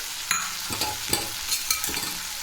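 Vegetables, including guava, being mixed in a pan for bhogi bhaji: several scraping spoon strokes at an uneven pace over a steady, soft sizzle, close by.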